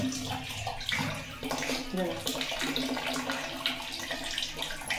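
Water splashes and pours steadily while finger millet is rinsed in a sieve, close and continuous with a sloshing rush from start to end.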